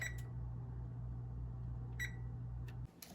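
A kitchen oven being set to preheat to 400 degrees, giving three short electronic beeps over a steady low hum that cuts off near the end.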